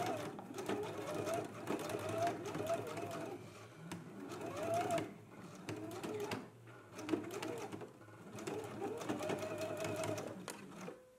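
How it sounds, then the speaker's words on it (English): A home sewing machine stitches along the front of a garment to close the waistband, its motor whirring in several runs with brief pauses, close and clear while a voice talks softly over it. "Now we can go to the sewing machine and we just want to stitch right here along the front to close up the waistband."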